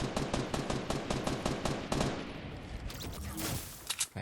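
Dense automatic gunfire in the Fortnite video game, played on a PS4 Pro: loud, rapid bursts of shots that continue almost without a gap, with a brief shift in tone near the end and no speech.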